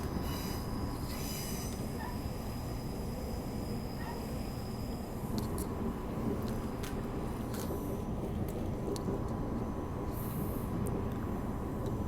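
A Perth to Claremont suburban passenger train rolls along steadily with a continuous rumble and occasional high metallic wheel squeals, heard from inside at a moderate level.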